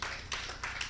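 Brief scattered clapping from a conference audience, a few quick bursts of hands in a short moment.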